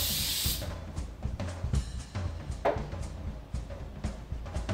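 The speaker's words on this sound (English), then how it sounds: "I'm gonna be using the Hold It Right There hairspray on medium," A single short hiss of hairspray aimed at hair from a distance opens the moment, then gives way to quiet room sounds and faint handling noise.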